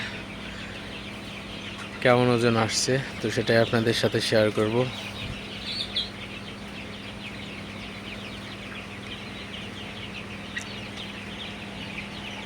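Thirty-two-day-old Sonali super hybrid chicks cluck and squawk in a burst of loud, rapid calls close at hand, then settle to a low steady hum of the shed while someone talks.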